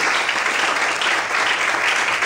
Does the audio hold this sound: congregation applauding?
yes